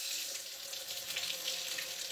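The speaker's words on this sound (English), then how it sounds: "So I'm going to wash this egg up." Steady stream of tap water running into a kitchen sink while an egg is rinsed under it, a constant close hiss with slight splashing and no talking.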